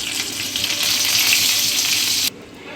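Cumin, mustard seeds, urad dal, chana dal, dried red chillies and curry leaves sizzle loudly in hot oil in a pan for a ginger chutney tempering, a dense, steady crackle that cuts off abruptly near the end.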